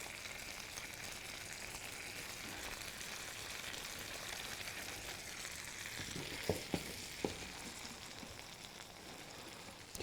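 Pork tenderloin sears in butter in a pan, a quiet, even sizzle and crackle throughout with a few soft knocks partway through.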